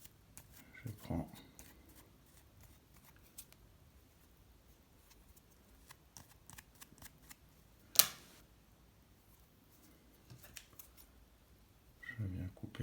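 Small scissors snip once, crisp and close, while tying a minnow-imitation fly for fly fishing, with quiet handling rustles and faint clicks around it and someone speaking French.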